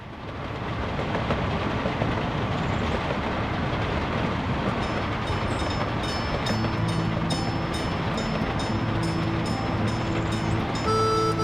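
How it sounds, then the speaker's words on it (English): A tourist train runs along a single track in Workers & Resources: Soviet Republic, a loud steady rolling rumble with rhythmic clicking of wheels over rail joints and brief tonal whistle-like notes toward the end. "Oh, come on then, Western tourist train."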